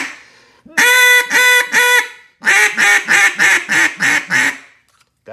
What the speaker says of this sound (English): let's give it a quack